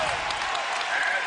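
Crowd at FedEx Forum applauding at the close of the first half of a Grizzlies basketball game, a steady wash of clapping and cheering from a large arena audience, brief and continuous.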